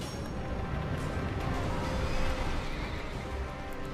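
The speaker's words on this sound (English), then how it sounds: "And now, we have the horse to worry about." A chariot horse in the video game Dark Souls II whinnies amid dense, noisy game ambience, the neigh partly buried in a continuous rumbling wash.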